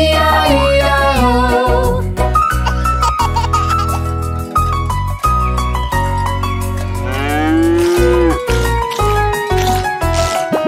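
Cartoon farm cows moo repeatedly in the nursery rhyme Old MacDonald Had a Farm. Sung voices imitate the lowing over a bright, steady children's-song backing track, and the moos recur at a lively rhythm throughout.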